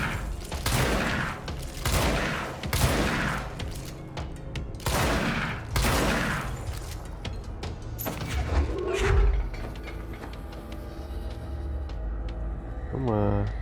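Shotgun blasts in the Control video game, a run of loud, heavy booming shots at a steady pace over dense game noise, with speech partly heard beneath.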